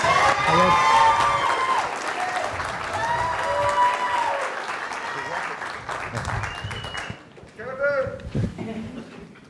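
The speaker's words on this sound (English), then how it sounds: "Have a round of applause for Kevin." An audience at a university business pitch competition applauds a presenter, with loud, dense clapping and some cheering mixed with voices. The applause thins out after about seven seconds, leaving scattered claps and talk.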